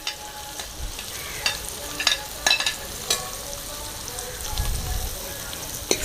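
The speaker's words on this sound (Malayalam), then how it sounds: "എണ്ണ ചൂടായി വന്നിട്ടുണ്ട്. അതിലേക്ക് നമുക്ക് സവാള ചേർക്കാം." Onions dropped into hot oil and sautéed in a pan hiss and crackle up close, with intermittent spatula scrapes and knocks against the pan.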